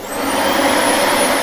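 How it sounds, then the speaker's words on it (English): A vacuum cleaner drones at night in a steady, close, loud whine with a high hiss, running continuously and alone. "That's the vacuum cleaner"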